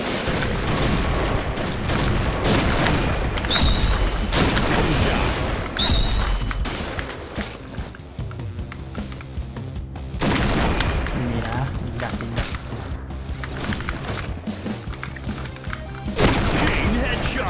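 Rapid bursts of gunfire and shooting sounds from the online shooter game Point Blank, dense and loud for most of the stretch with a brief quieter lull, while a voice talks over the gameplay.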